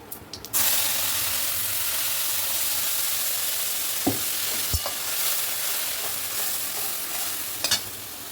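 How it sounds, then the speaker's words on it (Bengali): A paste of ginger, garlic, onion and green chili hits hot oil with a loud, steady sizzle. Occasional clinks and scrapes of stirring break it up, and nobody speaks. "আমি ব্লেন্ডারের মধ্যে আদা রসুন পেঁয়াজ আর কাঁচা লঙ্কা পেস্ট করে নিয়েছি। এই তেলের মধ্যে মশলাটা কষিয়ে নেব।"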